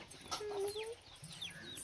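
Soft chicken clucks and a few short calls from a village hen and chick, with bird chirps scattered around and low background rumble; no one speaks.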